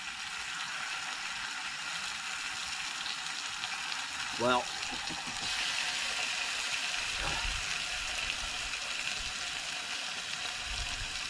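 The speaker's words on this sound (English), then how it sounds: "You hear that? It's got the sizzle." Thick-cut bacon fries in a pan with a soft, steady sizzle through the whole stretch, with a brief scrape or clatter midway and a short spoken word near the start.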